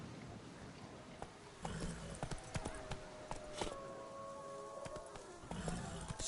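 Horse hooves clip-clopping in a video game, faint steady hoofbeats over a quiet ambient background with occasional sharper clicks, distant and low in level.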